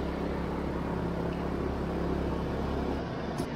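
A Sportsman generator runs at full throttle while powering three fans, giving a steady, close, droning engine rumble with no break across the clip.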